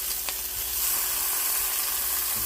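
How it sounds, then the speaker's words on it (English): Bacon sizzling steadily in a skillet on the stove, a constant bright hiss with faint crackles that holds the same level throughout, close and alone with no voices. "I'm going to let the bacon get a little bit brown"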